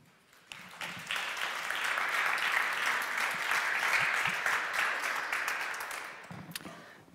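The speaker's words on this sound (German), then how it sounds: "Du kriegst schon hier Reaktionen und Applaus für diese Folie." Applause for a presentation slide: steady clapping from an audience swells after a brief start and holds evenly for several seconds before tapering off, with no talking over it.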